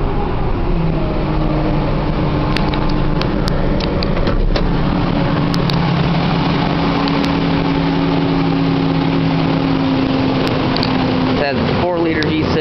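A Ford Ranger with a 4-liter V6, which cranks slowly on a cold start: a steady, loud engine idle holds throughout with a low hum, and a brief clatter comes near the end.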